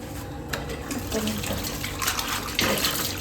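Water running from a tap into a sink while things are washed, a steady close gush with small splashes and clatters, no voices.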